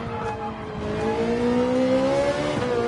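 A GR3 class race car engine in the video game Gran Turismo 7 revs and pulls through the gears, its rising whine climbing steadily and loudly as the car accelerates, with no talking.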